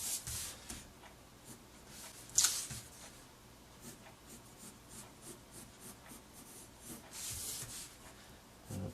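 A pencil drawing the inner circle of a bicycle tire on paper, producing a steady soft scratching and rubbing close by, with a couple of brief louder strokes and no talking.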